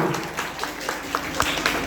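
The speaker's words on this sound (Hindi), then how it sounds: "जोरदार तालियां" Audience applause closing a short stage play about a mother's love, a steady dense wash of many hands clapping at close range, with scattered louder claps and faint voices mixed in.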